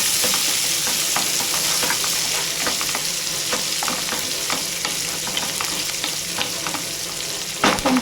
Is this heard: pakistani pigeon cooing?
no